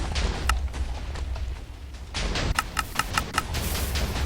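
Rapid bursts of TNT blasts from a spam cannon in Minecraft, a string of sharp booming pops around three per second over a rumbling low roar, loud and close, with no talk.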